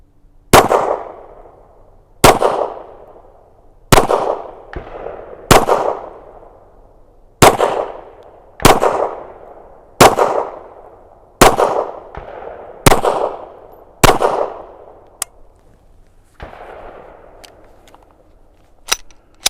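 A Ruger Security 9 pistol fires about a dozen sharp, loud single shots at a steady, unhurried pace, each one ringing briefly. The last few are fainter and more spread out, and no one talks.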